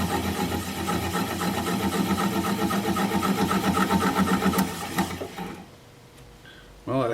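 Wood lathe turning a massive ponderosa pine blank, a gouge bevel riding the bottom of the piece: a steady, loud mechanical whir with rhythmic cutting texture that cuts off after about five seconds, leaving near silence before a thump.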